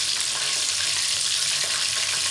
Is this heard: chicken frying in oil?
yes